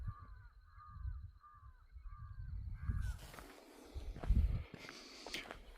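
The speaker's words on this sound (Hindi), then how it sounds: "अभी देखिए कौवे उड़ रहे हैं, वहाँ कहीं शिकार है, काँव काँव कर रहे हैं" Crows cawing overhead on a jungle hike in Jim Corbett, a regular series of five harsh caws, then rustling footsteps and brush movement close by as the calls fade.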